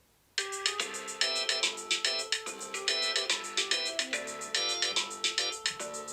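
Piano playing an iPhone ringtone, a relaxed, lazy-feeling tune of repeated rippling chords and melody notes, close and clear, played alone without talk.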